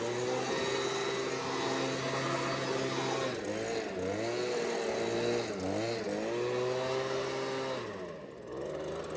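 A loud blower drones steadily close by while debris is cleared off a stump grinder trailer, its pitch wavering and dipping several times before easing near the end.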